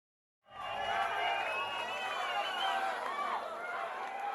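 Syrinscape cheering sound effect triggered for a critical roll in a tabletop game, rising suddenly out of silence into an excited crowd roar with shouts and whoops that carries on steadily to the end.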